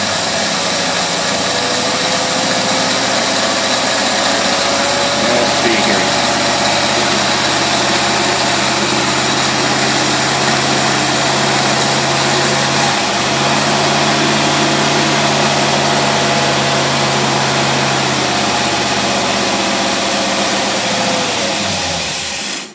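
An engine fitted with Holley tri-power two-barrel carburetors runs on heavy choke, a loud, steady, close idle with a low rumble that holds without a break for over twenty seconds.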